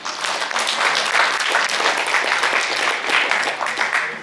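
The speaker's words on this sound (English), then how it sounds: "Give a round of applause." A crowd at a high school post prom bursts into loud, close applause, dense overlapping clapping that holds steady for a few seconds.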